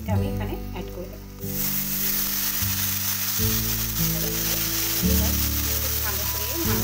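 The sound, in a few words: boiled black-eyed peas added to sizzling spice masala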